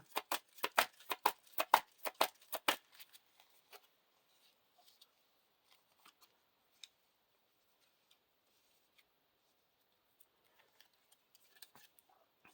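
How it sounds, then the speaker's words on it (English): A rapid run of crisp riffles as Lord of the Rings card game cards are shuffled up close for a couple of seconds, then near silence with a few faint scattered ticks. "Now we shuffle these together again."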